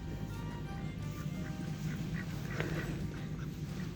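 Ducks quack at a farm alongside rabbits and parrots, a few soft calls in the distance over a steady low outdoor rumble and faint murmur.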